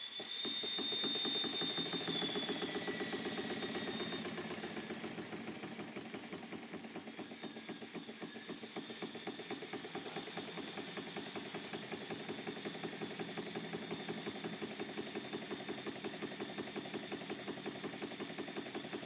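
An old German model steam engine running on compressed air, with a fast, even mechanical chuffing beat that holds steady and fairly smooth, close by and moderately quiet, with a faint whistle early on.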